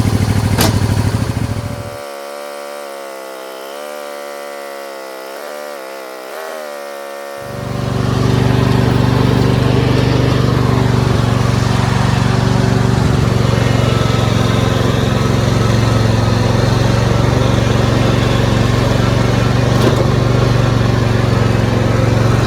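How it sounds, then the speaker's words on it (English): A John Deere Z225 zero-turn mower with a 20 hp Briggs V-twin engine runs loud and close, idling with a steady throbbing hum, dipping briefly, then revving to a constant roar. "Riding around a free zero turn."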